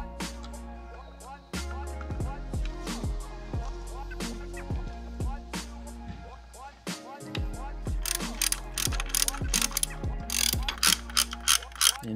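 Ratchet tightening 10 mm bolts that hold down an intercooler, heard up close as many rapid clicking runs in uneven bursts, growing quicker and louder toward the end, with faint clinks between strokes and no talk.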